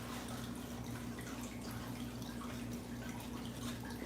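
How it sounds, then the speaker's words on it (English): Water runs and drips faintly and steadily as reptile water bowls are rinsed and cleaned with a bucket and rag, with no talking. "Clean them out real good"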